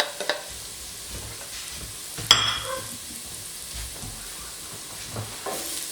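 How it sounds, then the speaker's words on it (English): Bay leaves stirred into a soup pot for tomato rice soup, giving a soft scraping stir and a short hiss of sizzle partway through, fairly quiet with low kitchen background. "Give it a stir."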